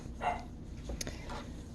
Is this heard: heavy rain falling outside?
no